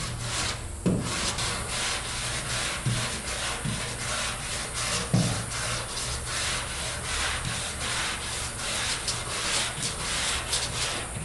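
An 80-grit sanding block scrubs lightly set plastic body filler on a car's quarter panel in steady, close back-and-forth strokes, a dry rasping rub with a few soft knocks and no voices.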